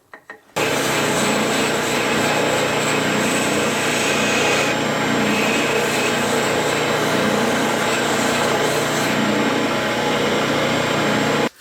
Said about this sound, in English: now we're just going to use the oscillating drum sander to clean up these curves